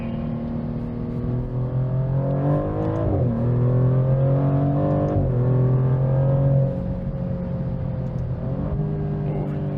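Maserati GranTurismo Modena engine revving up to around 3,000 rpm and holding a smooth, tuneful note, with rising and falling pitch sweeps over a steady loud drone, heard from close by without talk.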